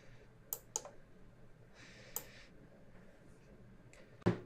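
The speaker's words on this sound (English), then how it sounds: "I'm going to right click on styles.css," A computer mouse clicks several times nearby while a CSS file is right-clicked and opened in an editor, with a short rustle between clicks and a louder thump at the end.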